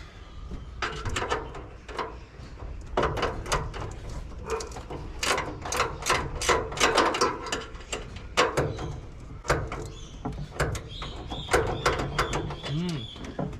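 A ratchet spanner turns a socket on a bolt, giving close bursts of quick clicking ratchet strokes with short pauses between them, and a voice is briefly heard near the end.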